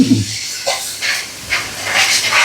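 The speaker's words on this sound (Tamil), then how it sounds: "இப்போ முட்டை ஆறு முட்டை ஆறு முட்டை நம்ம எத்தனை முட்டை வேணாலும் ஊற்றி கொண்டுட்டோம்" Six eggs poured into a hot pan for chicken fried rice, sizzling and hissing in a few loud close bursts that swell and fade, with a brief knock at the start.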